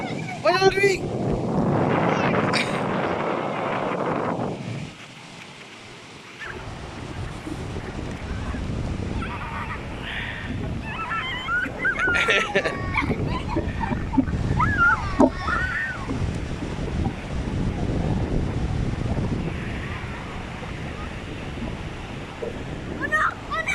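Strong gusts buffet the microphone on a cold beach, roaring and dropping in waves, with surf beneath and people talking and calling out over the wind.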